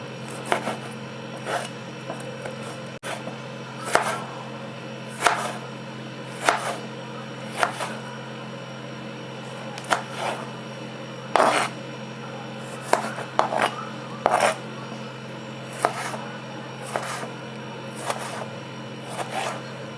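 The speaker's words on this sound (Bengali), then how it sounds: "একটা টমেটো কেটে নিচ্ছি আমি" A tomato being chopped with a knife on a board, with a series of sharp, fairly regular cutting taps, close and clear over a steady background hum.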